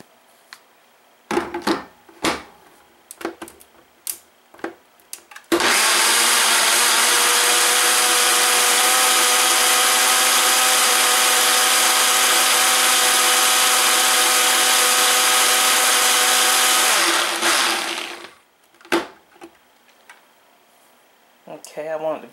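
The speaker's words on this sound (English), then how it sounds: "And I'm going to blend it up." A countertop blender whirs through a berry smoothie, starting abruptly and running as a loud, steady, close roar for about twelve seconds before cutting off, with handling knocks and clatter before and after.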